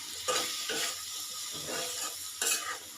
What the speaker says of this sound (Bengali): এখন এগুলো একটু লাইড়া নিব